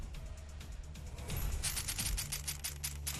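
A steady string of pistol shots in SYNTHETIK: Legion Rising, each a sharp snappy crack with a metallic ring. The shots come in a quick, even rhythm, close and clear, under a low background hum.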